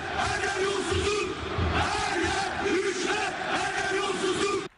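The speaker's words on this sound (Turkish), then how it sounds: "Ali İsmail Korkmaz için bestelenen tezahürat. Hem Fenerbahçe tribünlerinde yankılandı hem de stadyum girişinde." Fenerbahçe supporters chant in unison for Ali İsmail Korkmaz, a loud, massed crowd roar with a steady rhythmic swell of many voices echoing through a stadium, continuous until it cuts off abruptly.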